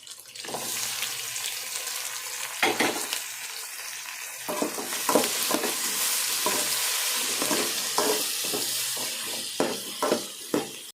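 Onions sauté in a pan for a sea fish curry, with a steady sizzle broken by repeated scraping spoon strokes, close and fairly loud with no talk.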